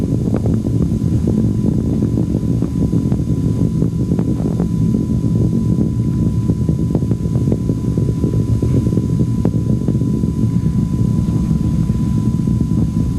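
Space shuttle solid rocket boosters on John Glenn's shuttle flight roaring about a minute into launch, a loud, continuous low rumble with wind-like buffeting and no spoken voices.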